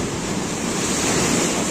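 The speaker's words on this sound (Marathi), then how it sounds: "ही लाट बघा" Sea waves surge against a rocky Konkan shore at high tide, a loud roaring wash of surf mixed with wind buffeting the microphone.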